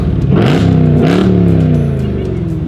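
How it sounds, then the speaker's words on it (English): A street-legal racecar engine revs hard and close, its pitch climbing in repeated sweeps and then holding a steady, loud throaty roar without a break. "Rev it up!"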